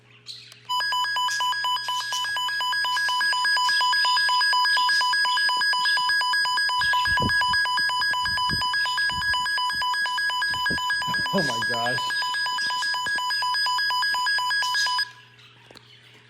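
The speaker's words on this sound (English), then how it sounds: "And now for the alert test." A loud, steady electronic alert tone from a Maxx Digital CR01NW weather alert radio drones for most of the clip with a pulsing high warble, and a person briefly exclaims partway through before it cuts off.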